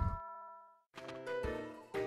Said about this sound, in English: that's the school bell